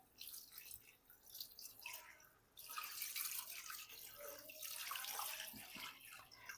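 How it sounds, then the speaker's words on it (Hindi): Water pours from a jug into a pot of spiced fish head curry, a faint splashing and trickling stream that grows steadier partway through, with no talk over it. "अब इसमें मैं पानी डाल दूंगा।"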